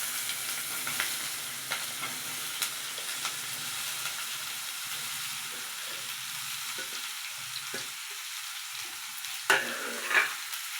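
Vegetables sizzle steadily in hot oil, with scraping stirs of a utensil throughout and a couple of sharper clinks near the end.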